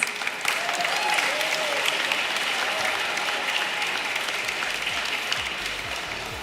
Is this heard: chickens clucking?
no